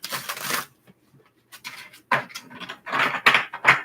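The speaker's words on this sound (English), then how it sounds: "This will be our last shuffle" Tarot cards shuffled by hand in several bursts of crisp, papery riffling with short pauses between, close and fairly quiet.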